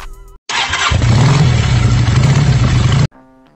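A Euro Motor Daan Hari 186 motorcycle engine revs up close and loud in a sustained burst of about two and a half seconds, rising in pitch before cutting off abruptly.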